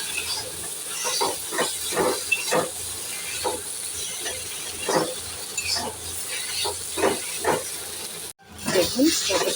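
A vegetable chop mixture with bhat masala spices fries down in a pan, giving a steady close hiss and sizzle broken by repeated scraping stirs, with a brief cut near the end.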